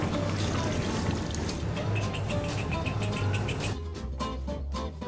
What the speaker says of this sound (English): I'm gonna add some more water to let it simmer for a bit